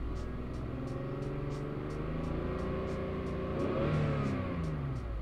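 A BMW E60 530i engine with a suspected vacuum leak revs up from idle in a garage, a steady mid-pitched drone that swells and rises in pitch near the end, fairly quiet and heard close without talk.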